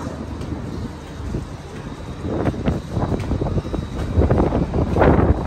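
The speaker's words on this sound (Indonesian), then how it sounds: "Anginnya cukup kencang." Steady low roar of strong wind buffeting the microphone on the upper deck of an Al Hijrah bus, building louder toward the end, with a rumbling, gusty texture and no voices.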